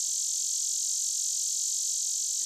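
Cicadas in New Hampshire trees make a steady, continuous high-pitched buzz, loud and unbroken throughout, with no voices.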